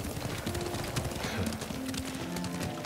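Horse hooves clop steadily while riding in the samurai video game Ghost of Tsushima, a continuous near gallop under background game sounds and music.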